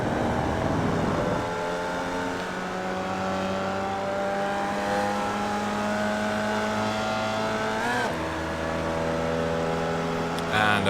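A Formula Vee in iRacing at Circuito de Navarra holds a loud, steady engine drone, then a throttle blip and downshift into second gear near the end, with pitch sliding and a brief rise in roar.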